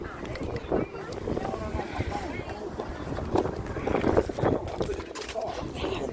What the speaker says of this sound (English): This wind is blowing the damn thing